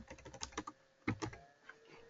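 Someone types quickly on a computer keyboard, a close, soft patter of key clicks. A brief pause comes before a final short burst of keystrokes.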